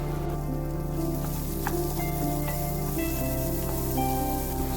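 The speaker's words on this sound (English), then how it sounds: "Saute the onion till they turn translucent." Onions sauteing in a pan for rajma curry, a steady close sizzle and crackle with a continuous low hum underneath, no talking.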